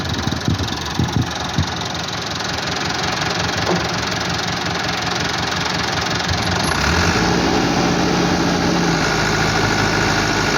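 A 385 tractor engine runs steadily under load while hauling bricks in fourth high gear, a loud, close, rough mechanical drone with a knocking edge that deepens and strengthens toward the end.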